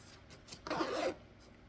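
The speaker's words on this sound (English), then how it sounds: "You cut it out and just use the zipper like that." A zipper being pulled along a jacket lanyard or drawstring gives one brief, close rasping zip of about half a second that is moderately loud and rises out of quiet handling noise.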